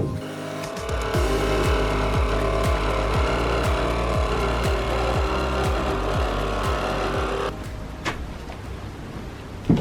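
Power tool cutting a window opening through the metal wall of a camper van conversion, a loud steady whine with a rapid pulsing chatter running close for most of the clip before the cut eases near the end.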